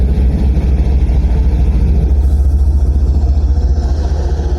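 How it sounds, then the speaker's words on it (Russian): A train's air brake compressor, heard at a railway station depot, runs loud and close with a steady low rhythmic thumping and engine drone as it pumps air. "Накачивается воздух. Слышите? Начал работать этот компрессор."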